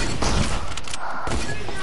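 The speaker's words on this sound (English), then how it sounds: "No, he's using a minigun." Continuous rapid minigun fire in a video game, a dense unbroken roar with heavy low-end thumping that runs the whole time, with voices talking over it.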